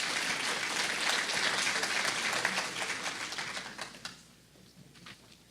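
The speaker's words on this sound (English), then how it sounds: "give him a round of applause as he climbs those stairs" An audience applauds as a young contestant climbs the stairs at a junior talent competition, with steady, dense clapping that tapers off toward the end.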